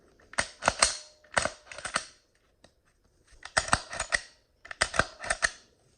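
Sharp plastic-and-metal clicks and snaps as a Glock Gen 1 magazine is pushed into and handled with a Glock 45 pistol, coming in three close, distinct bursts of rapid clicks separated by brief silences.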